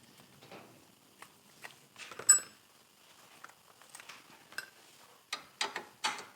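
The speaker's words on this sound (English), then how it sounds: "Spin this nut, and find the size that is." A ratchet wrench clicks while working a nut on a car during prep for removing a B20 VTEC engine, with scattered bursts of quick ratcheting and metallic taps close by, separated by short quiet gaps and no talk.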